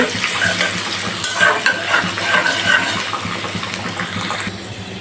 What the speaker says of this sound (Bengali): ফোড়নের জন্য আমি অল্প করে রসুন আর পেঁয়াজ দিয়ে সামান্য তেলের উপরে ফোড়ন করতেছি